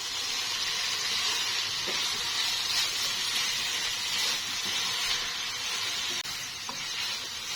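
Carrot halwa (gajar halwa) cooking in a pan while being mixed: a steady, moderately quiet hiss and sizzle with faint occasional scrapes of stirring, and no talk.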